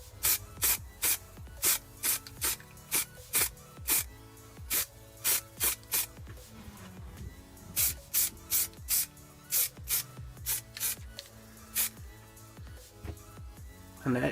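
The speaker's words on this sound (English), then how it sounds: "Give it a good spray, good shake up, sorry, and just hit it with a bit of primer." Aerosol primer sprayed onto wiper arms from a Honda Civic 8th generation, heard as a regular run of short hissing bursts, close and fairly quiet, with brief pauses between them.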